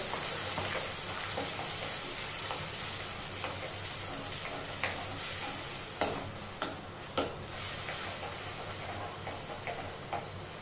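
A paste of ground tomato, ginger and chili sizzles in a pan with cumin, a steady close frying hiss broken by occasional sharp spoon clicks against the pan.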